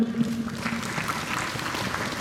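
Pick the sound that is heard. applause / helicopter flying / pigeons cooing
applause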